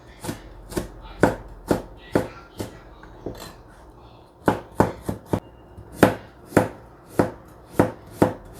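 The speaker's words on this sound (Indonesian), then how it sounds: "Nah, ini dipotong kayak gini sesuai selera" Shallots being chopped with a knife on a board, a steady run of sharp, close knife strikes in quick rhythmic bursts with a short pause midway, no voices over it.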